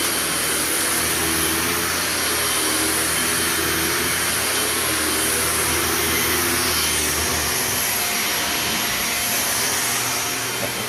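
A household vacuum cleaner runs steadily and loudly throughout, a continuous whining roar with a slight drop in level near the end.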